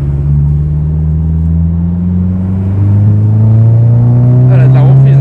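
A Volkswagen Golf 7 GTI Performance accelerates hard, its engine note climbing steadily and loud inside the car, with a voice briefly heard near the end.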